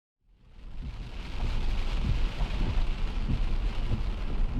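A thunderstorm builds from silence into a heavy, constant roar of rain, with low rumbles of thunder rolling underneath. It is heard from an overlanding trip in Utah's San Rafael Swell.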